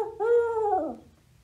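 A person imitates a barred owl with a single drawn-out hooting call that slides downward and fades, loud and close, standing alone against a quiet background.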